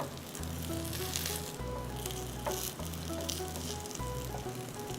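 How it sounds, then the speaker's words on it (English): Two vegan patties fry in a pan, giving a continuous, close sizzle and crackle, with a low, steady tonal hum pulsing in the background. "Place 2 vegan patties in the frying pan and fry for approximately 6 minutes or until golden brown"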